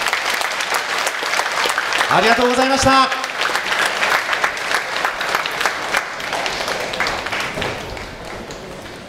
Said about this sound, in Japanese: 会場の皆さん、改めて大きな拍手をお願いいたします。